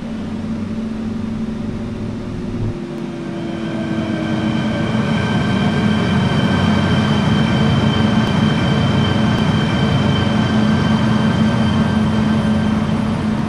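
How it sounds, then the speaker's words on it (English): An MTR Tung Chung line K-Train in the Hmmsim 2 train simulator game rolls into a station, a steady loud rumble with faint electric whine building and holding throughout, no voices. "The train to Tongchong is arriving."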